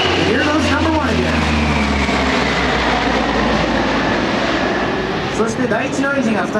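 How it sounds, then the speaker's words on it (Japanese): A propeller aircraft's number one engine restarts at the 1995 Atsugi air show, a loud, steady engine drone with a low throbbing hum, continuous throughout with a voice talking over it. "そして第一のエンジンが再び回り始めました。"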